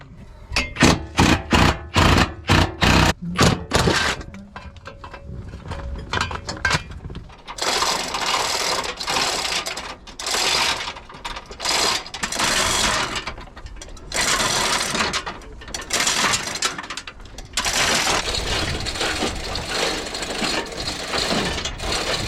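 A ratchet wrench cranks at transmission mount bolts on a junkyard Nissan 240SX, with quick clicking strokes in bursts followed by longer stretches of loud grinding, rasping metal work close by.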